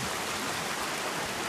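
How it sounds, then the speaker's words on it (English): Water runs steadily inside a cave in Armenia, a dense, even rushing wash filling the space with no breaks and no voices over it. "It comes with running water."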